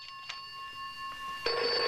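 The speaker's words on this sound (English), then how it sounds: "I think that's my phone ringing." A telephone bell rings from a movie soundtrack in a murder-by-phone film, bright repeated trilling bursts at moderate level, followed by a louder burst near the end.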